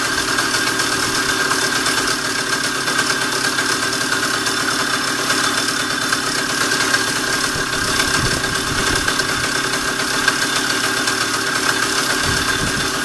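A Riga 13 moped engine idles steadily after carburetor tuning, a continuous close buzzing putter that holds an even rhythm throughout with no voices.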